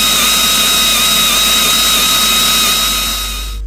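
A power drill bores a hole through a tyre for a puncture repair, a steady loud whine held unbroken for several seconds before it begins to wind down at the end.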